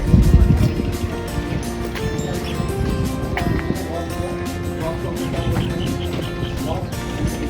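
Sea waves wash against a boat on the Bay of Bengal off Port Blair in the Andaman Islands, a dense, loud and continuous rush of water and hull noise with faint voices mixed underneath.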